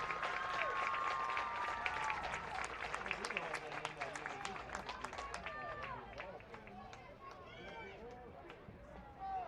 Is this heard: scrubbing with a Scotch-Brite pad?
no